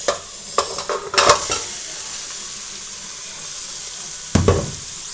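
Food frying in a pan and being stirred, with a few close scraping strokes near the start and another near the end over a constant, bright sizzling hiss.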